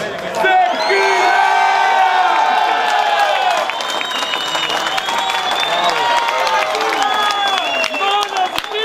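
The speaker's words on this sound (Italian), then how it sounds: "grazie per gli applausi" Crowd at a motocross podium ceremony in Gazzane di Preseglie applauding and cheering, a dense sustained wash of clapping with whoops and shouted voices, loud and close throughout.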